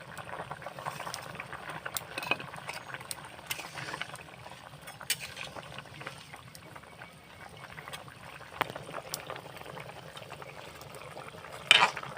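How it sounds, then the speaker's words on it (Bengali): A fish and cauliflower curry boils in a pot, a quiet, continuous bubbling with occasional small pops and clicks, and one sharper clatter near the end. "তরকারিটা কিন্তু অনেকক্ষণ ফুটে উঠেছে, দেখো"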